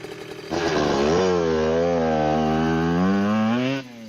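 A motorbike engine fires up and revs, rising into a steady loud buzzing drone held for about three seconds before dropping away, close by and with no talk over it.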